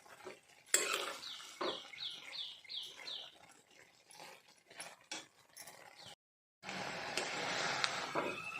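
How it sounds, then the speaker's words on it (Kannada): Tomatoes frying for chutney while being stirred in a pan: a run of quick, rhythmic scraping strokes and metallic clinks, then a brief silence followed by a steady, soft sizzling hiss. "ಇದು ನೀರಿನಂಶ ಹೋಗುವವರೆಗೆ ಸ್ವಲ್ಪ ಫ್ರೈ ಮಾಡಿಕೊಳ್ಬೇಕು"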